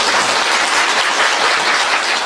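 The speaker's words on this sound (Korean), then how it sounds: "박수 한번 쳐주십시오." Steady, dense applause from a crowd at an outdoor political election rally, loud and continuous with no voice over it.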